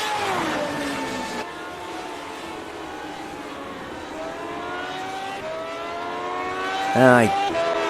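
A Lotus 79 ground-effect race car engine screams in a racing video game, a steady high-pitched whine rising and falling with gear changes, a brief louder burst near the end, continuous and fairly close.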